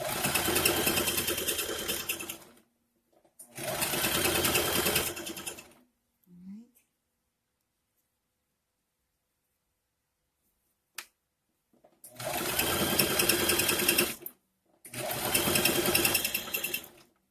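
Sewing machine stitching a DIY shirt, running in several loud, steady bursts of rapid needle clatter separated by silent pauses and a brief click.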